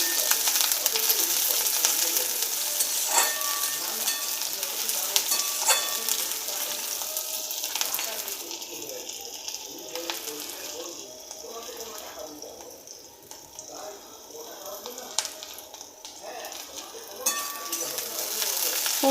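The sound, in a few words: chopped onions frying in oil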